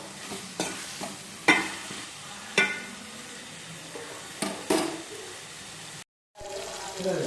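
Masala being sautéed in oil for a prawn gravy, with soft sizzling under a series of sharp spoon scrapes and stirring knocks at irregular intervals, then a brief cut to silence near the end.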